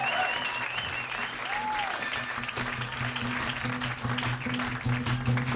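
Crowd applause at a live rock concert, loud and continuous, with cheers, whistles and shouts over a low stage hum.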